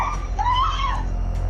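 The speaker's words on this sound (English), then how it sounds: "She falls to the ground and shrieks," A woman screams for help while being mugged, a single rising and falling shriek of about a second standing out clearly over a constant low rumble.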